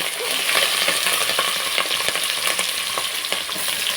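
Bay leaves fry in hot oil for chicken dum biryani, a dense, loud, close crackling sizzle that keeps going steadily, with a few sharper pops and the scrape of stirring, and no voices.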